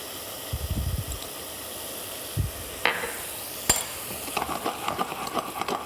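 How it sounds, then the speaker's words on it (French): Soft scraping and gentle stirring of cauliflower with butter in a saucepan over a low sizzle, with a few light clinks of a utensil against the pan. "on enroule doucement les choux-fleurs avec le beurre"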